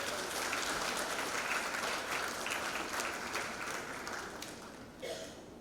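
Steady crowd applause at a university graduation ceremony in the Seychelles, sustained and dense throughout before tapering slightly near the end.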